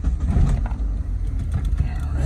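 A 2001 Mitsubishi Mirage engine is started and runs with a low, rumbling idle close by, steady and unbroken for the short stretch.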